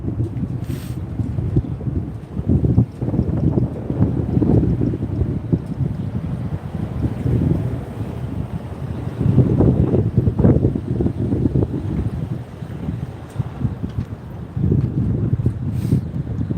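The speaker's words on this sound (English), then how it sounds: "It's windy down here, y'all." Heavy wind buffets the microphone in loud, low rumbling gusts that rise and fall throughout, with no voices.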